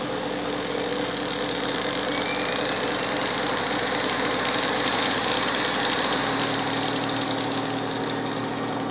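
A homemade 220-volt generator driven by an old blender motor runs steadily with a constant high whine and hum, its pitch dropping slightly partway through as the speed changes.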